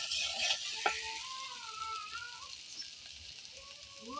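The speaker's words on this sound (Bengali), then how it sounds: "মাছ ভাজি করছি।" Fish frying in a pan gives a soft, steady sizzle with faint tonal sounds drifting over it, quiet and uninterrupted by speech.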